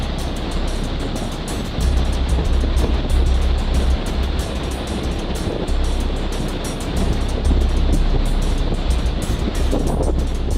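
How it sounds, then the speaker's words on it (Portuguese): Rough sea surges around the tiny São Pedro e São Paulo rocky archipelago in the open Atlantic. Loud, continuous crashing and rumbling swells in waves, mixed with wind buffeting the microphone, and there is no talking. "Hoje, o mar está em fúria."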